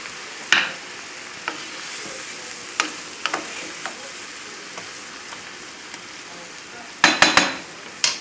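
Veal sits sizzling in its pan juices, a soft steady fry with a few sharp clinks of a utensil against the pan, close by and alone with no talk.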